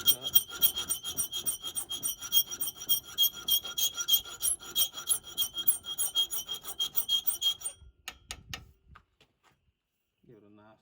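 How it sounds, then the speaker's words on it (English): A half round file rasps in steady repeated strokes across the heel of a skinning knife blade forged from an old hayrake tine, loud and close, with a few faint knocks after the filing stops near the end. "I'm gonna take the half round file and go ahead and trace that over"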